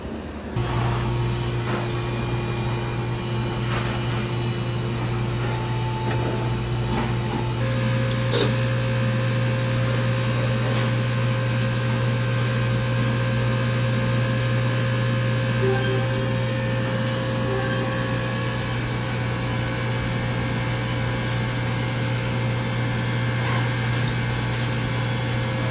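Residential HVAC unit running while refrigerant is charged, a steady mechanical hum with tonal whine and fan noise continuing evenly for the whole stretch, no talking.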